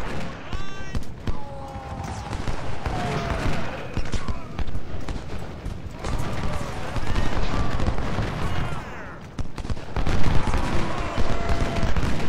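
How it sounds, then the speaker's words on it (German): Cannon and musket fire in the Civil War strategy game Ultimate General: Civil War, a continuous barrage of booming and cracking shots rolling through the whole stretch, loud and dense with rising intensity toward the end. "Ihr wollt es nicht anders, dann kriegt ihr das Kanonenfeuer."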